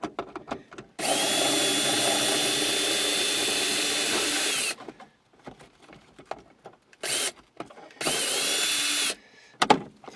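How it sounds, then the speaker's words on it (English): A power driver with an 8mm socket spins out headliner bolts inside a 2004 Honda Accord, giving a long steady whir followed by two shorter runs, close and loud, with quiet handling between them. "your best bet is to use an 8mm socket, even if it's a wrench"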